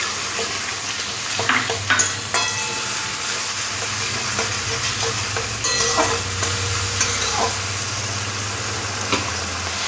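Pointed gourd masala curry is stirred and sautéed in a pan, a continuous close sizzle broken by repeated scraping strokes of a spoon against the pan, with no talk.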